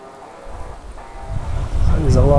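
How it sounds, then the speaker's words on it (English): Low, blustery wind rumbles against the microphone in the bush of a mountain range, gusting stronger and louder toward the end, with faint rustling underneath. "Bloody windy. Yeah, it's pretty windy out."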